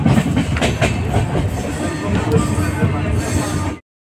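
Steady rumble and rattle of a train running on rails, heard from inside a carriage on a long-distance journey, a continuous loud roar with faint periodic clacks throughout.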